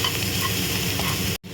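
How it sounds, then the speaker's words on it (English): Onions frying in a pan for a chicken salad, a dense, close, steady crackling sizzle with faint stirring scrapes, cut off briefly near the end. "After 2 minutes of frying, you can see the onions are translucent now."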